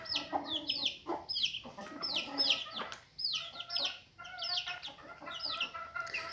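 Chicks and hens in a farmyard coop cluck and cheep almost nonstop, with bright high peeps layered over lower clucks, close by and fairly loud throughout.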